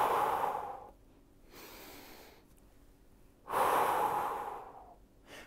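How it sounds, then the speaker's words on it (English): Two strong, long exhalations during a Pallof press core exercise, near and breathy, separated by quieter inhaling pauses. "as my hands get out to the end, I am simply breathing out"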